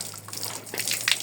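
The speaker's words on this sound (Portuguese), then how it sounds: "é a primeira vez que eu vou jogar uma água" Water thrown onto stairs painted with white cement, a brief close splash and gush that runs across the surface with some dripping.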